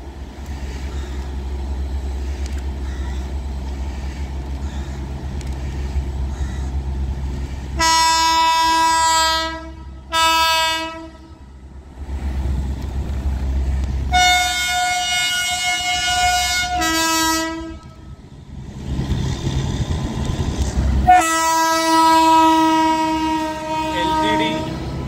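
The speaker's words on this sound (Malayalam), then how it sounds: "ഇപ്പോൾ ഹോൺ അടിച്ചൊരു പോക്കുണ്ട്" A locomotive-hauled passenger train rumbles past close by on an Indian railway line, its horn blasting in several long, loud, sustained calls separated by short gaps over the steady rolling of wagons.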